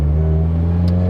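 A pro-tuned 2017 Subaru WRX accelerates hard, its exhaust note a loud, close, steady drone with no talking.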